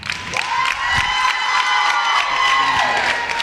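A wrestling arena crowd roars and cheers loudly throughout, a dense wall of shouting and whoops that swells and holds without a break.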